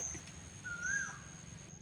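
An Asian koel calls once near a rural farmyard, a single rising whistled note standing out faintly over a quiet background hum.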